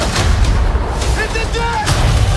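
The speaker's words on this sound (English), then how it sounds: "Chop, chop! Cannon!" Cannon fire in a One Piece trailer booms loudly within a dense, noisy action mix, with a shouting voice briefly over it.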